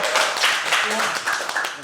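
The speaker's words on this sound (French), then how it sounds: "applaudissez-le." Applause for a contestant on a Formula 1 quiz show, a short patter of clapping mixed with talk and murmuring voices, fairly close and continuous.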